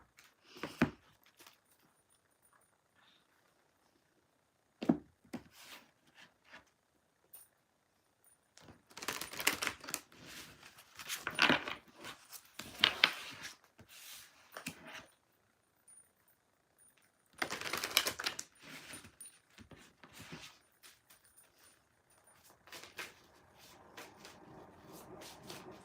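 A large deck of cards split in half and shuffled: quiet handling and taps, then bursts of crisp, fluttering riffles, with a few soft clicks and rustles between them.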